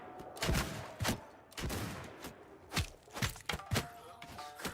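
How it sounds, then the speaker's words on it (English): Gunfire in Mount and Blade II: Bannerlord with the Shokuho Japanese Shogun mod: a string of sharp, loud shots at irregular intervals, some close together, with thumping impacts between them and no talking. "you are about to see just how bad my shooting really is"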